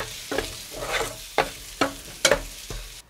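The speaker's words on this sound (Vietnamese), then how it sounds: "Tiếp tục mình cho cà chua vào xào." Tomatoes are stir-fried in a pan with oil and fragrant fried shallots and garlic, a soft sizzle punctuated by about six sharp scraping clacks of the spatula tossing the food at a steady, unhurried pace.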